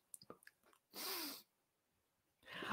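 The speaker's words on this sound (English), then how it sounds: "Gonna sneeze." A person sneezes close by, with a short sharp burst after a few breathy intakes, followed moments later by a second loud breath or sneeze-like exhale.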